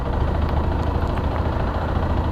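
A Zontes 310X motorcycle engine fitted with an aftermarket foam performance air filter idles steadily up close, a continuous low rumble with no talk over it.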